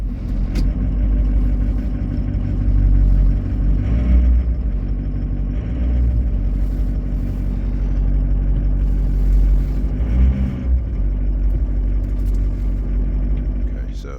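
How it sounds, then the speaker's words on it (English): A pickup truck is driven slowly into position beneath a dump bed insert, its engine rumbling steadily and fairly close throughout, with brief swells of revving and faint background voices. "I'm gonna go ahead and move the truck underneath it because I don't want to have to spin it around."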